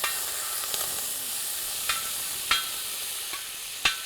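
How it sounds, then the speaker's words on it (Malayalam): Butter melting into ghee in a pan for a Kerala dish gives a steady, faint sizzling hiss, with a few sharp stirring scrapes spaced irregularly over the hiss. "വെണ്ണ ഉരുകി ഇപ്പൊ നറുനയ്യായി മാറിയിരിക്കുകയാണ്."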